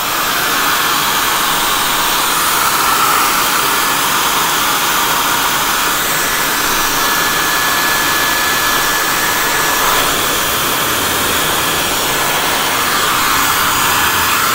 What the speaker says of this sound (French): Tu peux utiliser un diffuseur pour sécher tes cheveux.